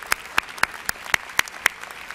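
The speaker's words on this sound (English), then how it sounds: "Let's give them a round of applause." An audience claps for an orchestra and gospel choir at an MLK convocation, with thin, scattered handclaps, about eight distinct sharp claps close by, spaced irregularly.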